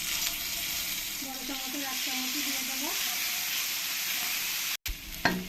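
Bay leaves and cumin seeds frying in hot oil give a loud, continuous sizzling hiss, close and unbroken, with a faint tonal whine midway and a brief cut near the end.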